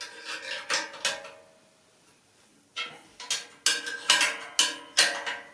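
Bolts being tightened during assembly of a Next Level Racing flight simulator cockpit: a series of sharp metallic clicks and ratcheting strokes, a few early then a quicker run of close, fairly faint clicks after a short pause.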